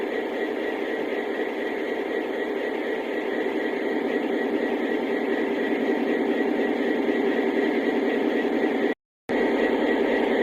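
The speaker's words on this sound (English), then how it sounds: "it raises the bass or low end sounds of the engine so it sounds like it's working harder" A Lionel Legacy SD40-2 model diesel locomotive's engine sound with labor effects turned up, a steady, bass-heavy rumble droning continuously and loud, broken only by a brief dropout near the end.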